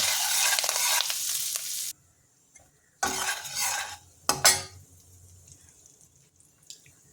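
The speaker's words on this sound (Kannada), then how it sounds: "ಇವಾಗ ನಾನು ಬದಿಯಲ್ಲಿ ಹಾಕಿರೋದನ್ನೆಲ್ಲ ಬೆರೆಸ್ಕೊಳ್ಳೋಣ ಒಟ್ಟಿಗೆ." A spoon stirring spices and greens in a ghee tempering pan, with a loud sizzling scrape at first, a brief silence, then shorter bursts of sizzle and clinks fading to quiet.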